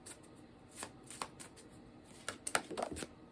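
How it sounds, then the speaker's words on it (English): A deck of tarot cards being shuffled close by, with soft riffling bursts and a few sharper slaps of the cards, fairly quiet and with no one talking. "let's get a card from this deck"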